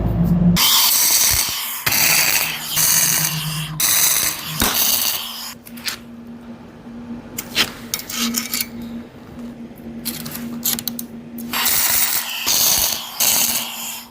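Tack welding on a steel boom extension for an 08W excavator: loud crackling bursts of arc noise a few seconds long, with quieter metallic clanks and workshop handling noise in between.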